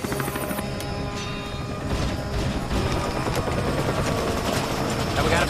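A helicopter with a failing rotor drones and rattles continuously, its loud mechanical clatter swelling slightly toward the end amid crashing noise.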